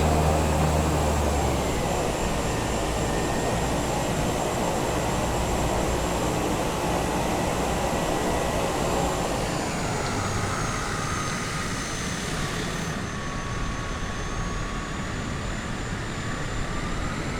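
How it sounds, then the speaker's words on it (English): An airliner roars with reverse thrust after landing in Microsoft Flight Simulator 2020, a loud steady jet drone with whining tones that slowly winds down and shifts pitch near the end. "Yes, it does have reverse thrust."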